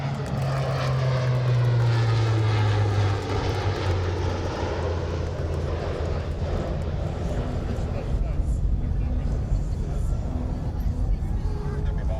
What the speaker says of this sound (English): Setting up now for their last pass, let's give a big wave to our Kentucky Air National Guard C-130J.